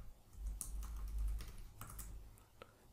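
Keys tapped on a computer keyboard as a terminal command is typed, a quick run of light clicks and a firmer final keystroke, close up and alone over faint low room hum.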